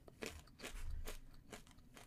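Crispy bacon bitten and chewed up close, a series of sharp crunches at a steady chewing rhythm, quiet and intimate with no talking.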